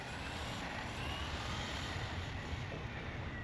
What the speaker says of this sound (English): let's go for a 3S speed run.